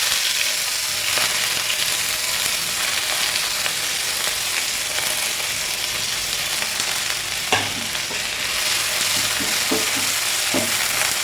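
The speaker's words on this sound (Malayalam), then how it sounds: "ഇതിലേക്ക് എടുത്തിരിക്കുന്ന സവാള ഇട്ട് കൊടുക്കും." Sliced onions sizzle steadily in a pan for egg curry, a constant frying hiss broken by occasional clacks and scrapes as a spoon stirs them, close and fairly loud with no voices.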